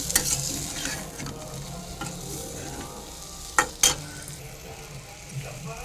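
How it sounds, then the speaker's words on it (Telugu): Eggplant fry with freshly pounded chilli powder being stirred in a hot pan: a soft continuous sizzle under repeated scraping, with two sharp metallic knocks of the spoon against the pan midway. "మిరప్పొడి వేసిన తర్వాత కొంచెం నేను కలపాలి."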